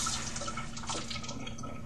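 Water pours into a laboratory burette prepared for titration, a soft continuous trickle and splash with faint dripping textures, steady and close but fairly quiet, with no one speaking.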